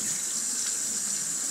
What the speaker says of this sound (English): I'm just going to rinse off with cold water to close my pores up again.